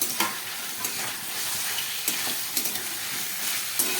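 Fried cauliflower pieces being stirred in a hot pan for a Bengali curry: steady oily sizzle with scraping spatula strokes and occasional sharp clinks against the pan, close and clear, no talking.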